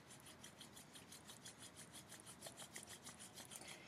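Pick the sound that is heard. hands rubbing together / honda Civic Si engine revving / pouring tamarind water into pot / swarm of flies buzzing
hands rubbing together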